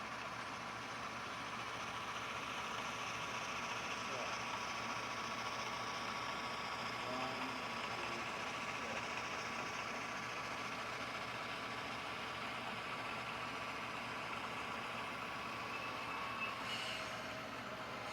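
A steady mechanical rumble and whir runs throughout, an HO scale model train rolling continuously on a layout track, with a constant hum underneath.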